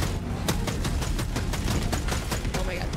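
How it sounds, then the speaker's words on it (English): A Gatling sentry in a video game firing steadily, a dense rattle of rapid shots mixed with other gunfire and explosions in a busy battle. "My Gatling's putting in work."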